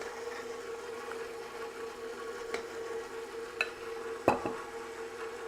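A stand mixer runs on low speed mixing a rich gluten-free cinnamon roll dough, giving a steady, fairly quiet motor hum with a few soft knocks and clinks near the end.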